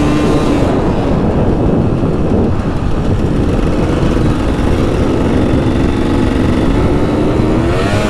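Dirt bike circling a flat track at a dirt park, the engine roaring loud and near the whole time, with a steady drone that swells and eases as the rider opens and rolls off the throttle.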